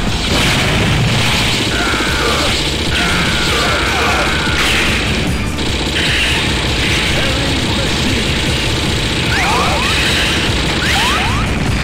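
Bomb blasts and crashes in the Metal Slug 4 arcade-style shooter on PS2, loud booms and thuds packed densely under constant game music and effects throughout, with a voice talking over the action.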